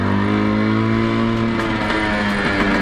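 A 1999 Yamaha YB1 50 four-speed motorcycle engine runs close and loud, holding a steady buzzing idle throughout.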